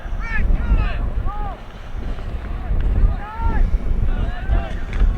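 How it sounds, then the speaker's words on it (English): Steady wind roars across an open microphone at an outdoor junior varsity boys' sporting event, low and continuous, with a few faint bird-like chirps rising above the rushing noise. "Very windy today."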